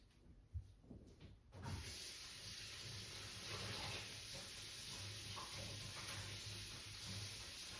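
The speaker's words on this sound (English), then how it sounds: "Let me rinse off my spatula" A kitchen tap is turned on to rinse a spatula, starting with a few small knocks before a steady, close hiss of running water takes over and continues to the end.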